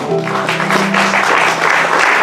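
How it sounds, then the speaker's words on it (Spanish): Church congregation breaking into applause during a worship service, a dense clatter of clapping rising over a lingering sustained musical tone near the start, loud and close. "recibe unos aplausos, Señor, de tu iglesia"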